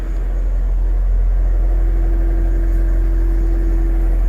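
A 2008 Mercedes-Benz SL55 AMG roadster's supercharged V8 idles steadily, a constant loud low rumble with a faint tonal hum, heard close and alone with no talk.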